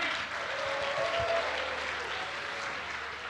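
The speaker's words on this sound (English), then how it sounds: "A big round of applause for all our partners and sponsors who make this possible" Crowd applause at an Ironman 70.3 triathlon ceremony in Bahrain, a continuous wash of clapping at moderate distance, fairly even throughout with no talk over it.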